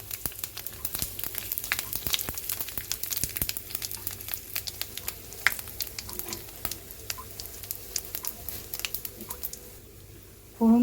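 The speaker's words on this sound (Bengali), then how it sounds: "কালো জিরে, সাদা জিরে, মৌরি, অল্প মেথি, তেজপাতা আর শুকনো লঙ্কা দিয়ে দিলাম" Whole spices including black cumin, cumin, fennel, a little fenugreek, bay leaf and dried red chilli crackle and sizzle in hot oil, a faint steady fry with scattered small pops.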